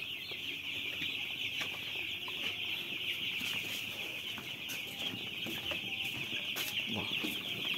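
Many nine-day-old broiler chicks cheep and cluck together in a steady, continuous chorus, with a constant high-pitched peeping filling the background throughout.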